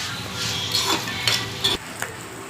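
Dry chillies and curry leaves sizzle loudly in hot oil in a pan, a steady frying hiss with the clink and scrape of a spoon stirring through it.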